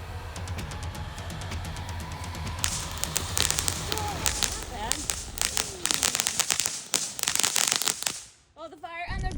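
Several small fireworks lit together outdoors on grass, going off in a rapid run of sharp crackles and pops over a few seconds, with people talking and calling out throughout.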